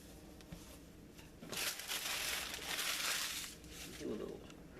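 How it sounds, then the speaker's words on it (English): Crinkly aluminum foil is peeled off the bottom of a hot store-bought pizza, a close, rustling crumple lasting a couple of seconds amid softer handling noise, with a voice speaking nearby. "we do need to get that aluminum foil off the bottom"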